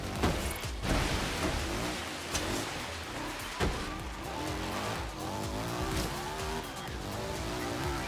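A three-wheeler car driving in Forza Horizon 3, its engine droning steadily with tires squealing and skidding as it struggles for grip, loud and continuous.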